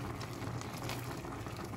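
Paksiw, a stew of vinegar and chili, boils in a pot with a soft, steady bubbling hiss, close but quiet, and nobody speaks.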